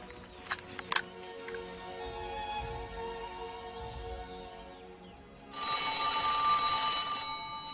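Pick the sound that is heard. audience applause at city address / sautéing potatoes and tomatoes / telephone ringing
telephone ringing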